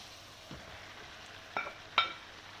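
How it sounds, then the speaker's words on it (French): Chinese noodles going into a hot pan give a faint, low sizzle, broken by a few soft clinks and scrapes of utensils against the pan. "Donc là, je vais rajouter mes nouilles chinoises."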